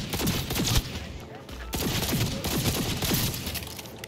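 Rapid gunfire bursts from a firefight in the video game Cyberpunk 2077, crackling continuously at close range with overlapping shots throughout, with voices talking over the shooting.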